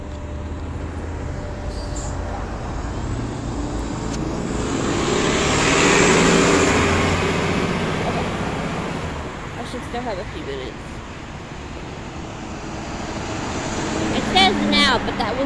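A city bus passes nearby on a street, its broad engine and road rumble swelling to a peak midway and then fading, with steady traffic noise around it and a brief rise near the end.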